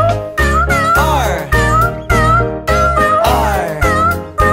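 Repeated cat meows ring out in a children's nursery song, loud and close, coming in a regular rhythm of about one meow every half second over a bright musical backing.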